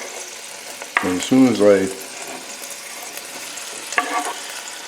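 Ingredients for a pork and black bean stew sauté in a pot with a steady sizzle and occasional stirring scrapes, and someone speaks briefly over the cooking.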